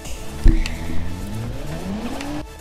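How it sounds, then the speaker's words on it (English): Toyota Supra engine in the Forza video game revving, a rising and falling engine tone with a sharp burst near the start, then a climbing rev that drops off at the end, close and moderately loud. "if you're a Supra guy, please tell me if this sounds like a real Supra or not"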